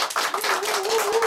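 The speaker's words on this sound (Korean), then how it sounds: "조금만 박수 부탁드립니다." An audience at a New Year's greeting event claps briefly and steadily, close and fairly loud, with a voice faintly audible under the applause.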